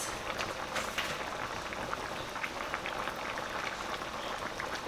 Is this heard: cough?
no